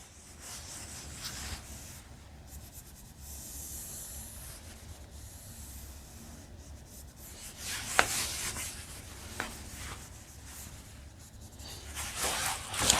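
Chalk or marker writing out algebra equations on a classroom board for partial fractions, steady scratchy rubbing strokes with brief sharper taps, fairly faint and close, no talking.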